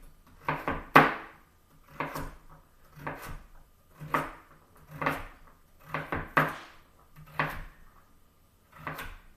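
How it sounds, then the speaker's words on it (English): Knife chopping carrot pieces on a cutting board, nine crisp evenly spaced knocks in a steady rhythm, close and clear with no talking. "line these pieces up and slice them at an even distance all the way along"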